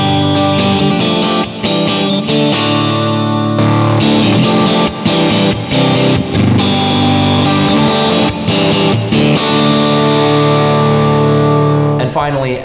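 Music Man JP15 electric guitar played through a gain boost, loud distorted chords and lead notes with effects, rhythmic stops and sustained ringing tones, ending with a brief different tone.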